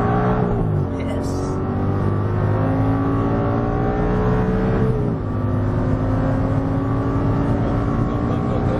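Audi R8 on a race track at Exotic Racing Las Vegas, its engine droning loud and steady with pitch sweeps as it shifts and accelerates, heard from inside the car, with a driving instructor talking over it.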